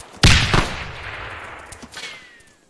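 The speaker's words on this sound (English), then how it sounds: "it was an anti-tank grenade" An anti-tank grenade blows up close by in an island airfield combat video game, one loud sharp blast whose rumble and debris trail off over the next couple of seconds, with a couple of smaller thuds following and no talk.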